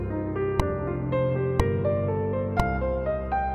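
Piano playing a short Dorian motif exercise over a steady metronome click at 60 beats per minute, with single ascending melody notes above held lower tones, all close and clear without talk.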